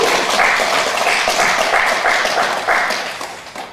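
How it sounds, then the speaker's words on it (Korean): A church congregation applauds together during a Sunday worship service, a dense, steady wash of many hands clapping that fades slightly toward the end. "우리 마음을 다해서 주님 앞에 우리 박수로 한번 박수로 경배 감사를 올려드리겠습니다"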